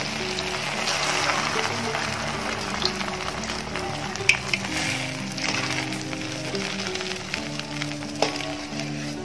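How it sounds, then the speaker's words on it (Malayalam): Egg puffs made from bread fry in hot oil, giving a continuous soft sizzle with small crackles, close and steady throughout. "അതുപോലെ എല്ലാം നമുക്കൊന്ന് ഫ്രൈ ചെയ്യാം"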